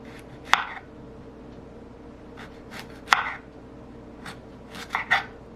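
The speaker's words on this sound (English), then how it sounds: "now I'm going to slice them" A knife slicing fresh radishes on a board gives three separate crisp cuts, spaced a couple of seconds apart, close and clear against a quiet room.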